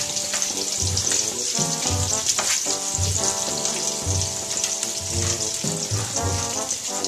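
Red onions hitting hot olive oil in a pan keep up a loud, continuous sizzle and crackle from start to finish, with tonal, music-like sounds running underneath.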